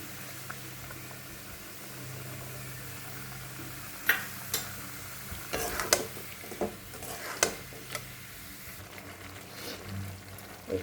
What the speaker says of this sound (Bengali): দিয়ে এটাকে আমি ভালো করে একটু কষিয়ে নেবো